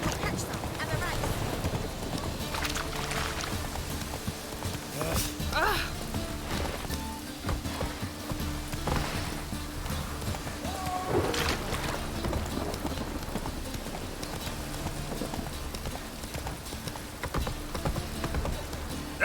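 Roach the horse gallops along a road in The Witcher 3, hooves drumming in a steady clip-clop rhythm under game ambience, with voices talking over the top.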